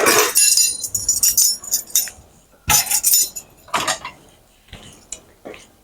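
A metal tablespoon scoops fruit pectin for peach jam, with scattered clinks and scraping ticks against a container in irregular bursts, close and fairly loud, with long quiet gaps between.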